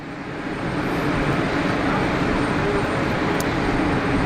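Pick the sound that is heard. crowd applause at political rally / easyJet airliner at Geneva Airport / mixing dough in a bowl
easyJet airliner at Geneva Airport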